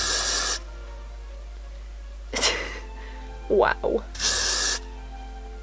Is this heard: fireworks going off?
no